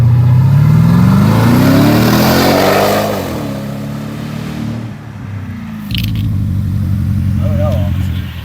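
A Porsche Cayenne Turbo V8 with its muffler deleted accelerates, its engine note rising steadily then dropping as it shifts, settling into a lower drone before revving again, loud and close.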